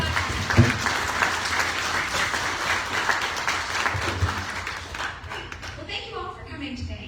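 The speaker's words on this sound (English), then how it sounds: "Let's give them a round of applause" An audience at a Wednesday A Million Cups meeting in Eustis, Lake County applauds its guests with a dense round of clapping that fades out after about five seconds.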